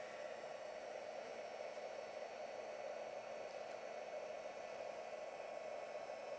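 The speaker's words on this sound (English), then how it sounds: "we're just going to heat emboss that now." A heat gun blows a steady, even hiss of hot air while heat embossing a stamped card, sounding close and unchanging with no pauses.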